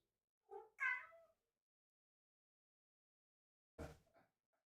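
A pet cat meows twice indoors, a short two-part call followed after a long silence by a second, rougher meow; close by and fairly soft.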